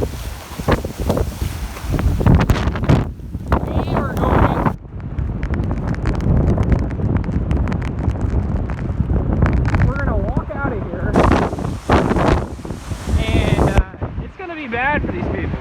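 Hurricane Ian making landfall at Bonita Beach (Barefoot Beach), Florida, with loud, steady storm wind buffeting the microphone and surge water roaring throughout, gusting harder in bursts.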